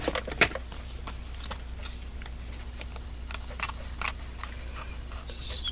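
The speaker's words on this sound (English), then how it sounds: "Trim the edges." Scissors trimming the edges of fabric scraps, a series of quick, close snips and crisp cuts at an irregular rhythm over a low steady background.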